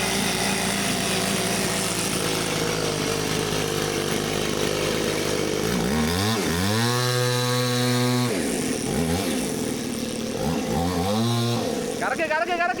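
The engine of a homemade water jet surfboard idles with a steady drone, then is revved hard twice, its pitch sweeping up and holding before falling back, with a quick blip at the end. Voices occasionally sound over it.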